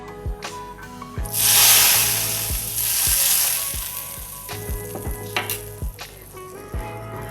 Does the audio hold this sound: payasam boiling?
yes